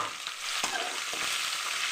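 Onion frying in oil with beetroot for a poriyal, a steady close sizzle broken by several sharp scraping stirs of a spoon in the pan.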